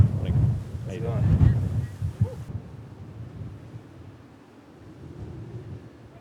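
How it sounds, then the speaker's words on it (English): Strong gusts on the rocky Makapu'u Point Overlook Trail buffet the microphone with a heavy low rumble. The rumble is loudest early, then eases to a steadier roar, with a brief voice near the start. "those gusts of winds are about to knock you over"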